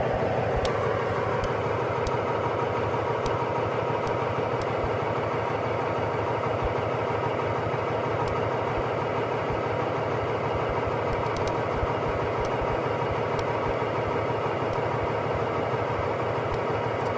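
A car engine idles steadily at roughly 600 to 900 RPM, a continuous close hum with an even low rumble and a few faint clicks, no talking.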